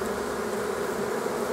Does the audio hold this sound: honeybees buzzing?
yes